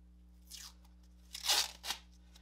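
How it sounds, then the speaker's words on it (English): Painter's tape is pulled and torn off the roll in a quiet room: a faint first rip, then a louder, sharper tear and a brief final snap, up close. "And then you'd wanna take a little bit of painter's tape."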